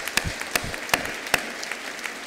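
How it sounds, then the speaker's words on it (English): Sparse applause from a graduation ceremony audience, a handful of separate sharp claps scattered irregularly over a quiet hall rather than a full ovation. "let's give a round of applause"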